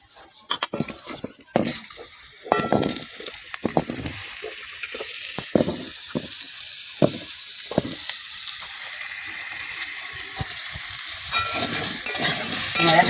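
Cut potatoes are stirred into a little salted oil in a kadai for a vegetarian potol-alu curry, opening with sharp scraping clatter that settles into a steady, rising close sizzle with occasional stirring knocks.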